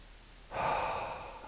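A single deep breath during an end-of-day yoga practice begins abruptly halfway through as a soft, close, airy inhale that slowly fades, following a quiet pause.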